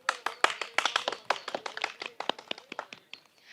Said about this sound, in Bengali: প্রথম, দ্বিতীয় এবং তৃতীয় যারা হয়েছে তাদের জন্য জোরে একটি করতালি